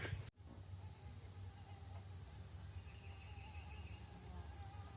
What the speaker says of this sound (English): that buzz, that's just like the mosquitoes. They're just swarming everything